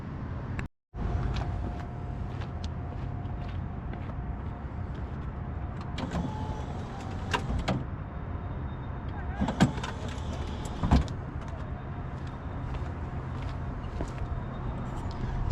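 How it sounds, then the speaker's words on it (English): A mechanical whir of a C4 Corvette's pop-up headlights rotating 180 degrees open, with a couple of soft motor bursts and clunks over a steady idling engine hum nearby. "I've never seen another car with pop-up headlights that function quite like this"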